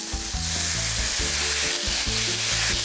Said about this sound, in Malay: Masak daging cincang ni sampai kering air dan lemak tu keluar.